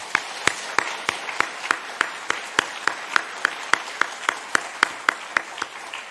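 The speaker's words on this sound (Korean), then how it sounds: "큰 박수 하겠습니다" A church congregation gives a round of applause, heard as a steady run of sharp, fairly regular claps with light overlapping hand noise, moderately close.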